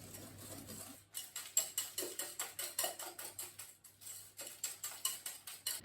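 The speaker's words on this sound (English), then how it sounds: "Then we'll whisk this together really well." Eggs with white and brown sugar are hand-whisked with a broken whisk in a bowl: a rapid, regular series of light scraping clicks, about three strokes a second, close and fairly quiet, with no talking.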